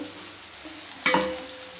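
Spices dropped into hot oil for tempering in a home kitchen, with a sudden sizzling burst that flares up loudly, then settles into a steady fading crackle.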